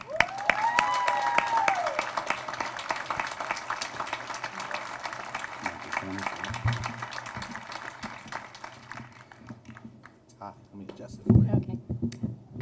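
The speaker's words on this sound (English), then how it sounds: "let's get a loud round of applause for Dr. Cecilia Von Barrel-Dingen to accept" An audience at a National Guide Dog Month award event applauds for a pet-food award, a steady crowd clapping that fades over several seconds. Voices speak over and after it.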